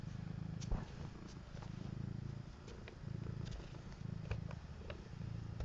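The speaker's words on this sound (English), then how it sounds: "You can probably hear her purring." A soft, steady low purr rumbles continuously, pulsing in slow breaths, close and quiet, with a few faint rustles on top.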